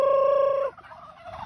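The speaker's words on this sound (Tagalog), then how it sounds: "Tapos marami tayong pabo dito." A turkey on a small farm lets out a loud, sustained tonal call up close, which cuts off abruptly and is followed by quieter farmyard noise.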